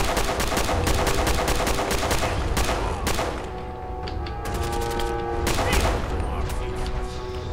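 Gunfire from the video game Fallout 4, loud repeated shots in rapid rhythmic bursts, close and punchy, interleaved with booming impacts.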